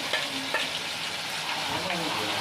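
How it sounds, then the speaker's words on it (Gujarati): Gravy for malai kofta sizzles loudly in hot oil, a dense, close frying hiss broken by a few soft stirring scrapes, with no talk over it. "તેલ ગરમ થઈ ગયું એટલે આ જો ગ્રેવી બનાવી ને એ નાખી દીધી અંદર"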